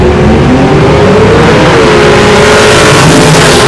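Drag racing launch at Darlington Dragway: a Mustang and a Camaro leave the line under IHRA Hot Rod Classic conditions, loud sustained engine roar with rising harmonic revs across the whole stretch, close and continuous, no talk.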